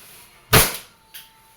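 A WE Hi-Capa airsoft pistol, a 2011 T-Rex model, fires one sharp loud crack, followed by a fainter second snap about half a second later in a quiet room.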